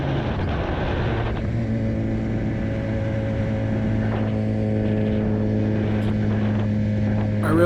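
A 2006 Suzuki GSX-R 750 K6 sport motorcycle cruises steadily down a road, its engine a smooth, constant drone with a steady pitch and no talk over it.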